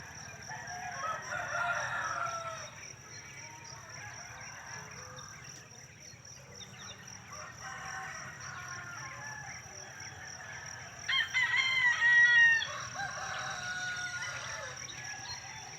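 Roosters crow in the distance, with one clearer crow rising near the end, over faint background birdsong.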